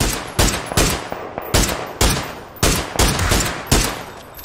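Shots crack out in PUBG, a battle royale shooter: about eight loud single reports spaced roughly half a second apart, each with a short decaying tail, with no talk over them.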